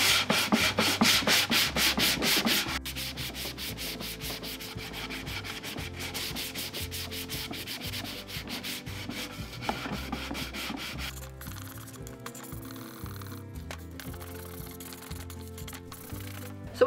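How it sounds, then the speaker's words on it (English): Steady rhythmic scraping of 220-grit sandpaper on a block over the edges and top of a wooden dresser, back-and-forth strokes close by, heavier at first then lighter and more broken toward the end. "I'm just using 220 sandpaper on a block."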